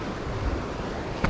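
Strong ocean surf rushes steadily close by at sea, with continuous broadband wave noise and wind buffeting the microphone and a brief splash near the end.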